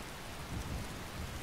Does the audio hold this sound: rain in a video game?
yes